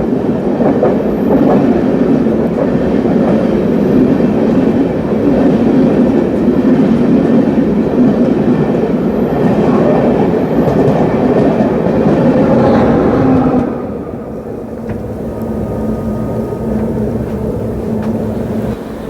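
New Delhi Amrit Bharat Express 22361 running behind a WAP 7 electric locomotive, a loud continuous rolling roar with rhythmic clatter that drops abruptly in level near the end, leaving a lower steady rumble.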